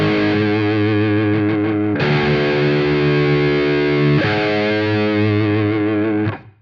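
Distorted electric guitar in open D tuning plays a tritone, a diminished fifth, as sustained heavy chords in three long strums that ring loud and alone before cutting off.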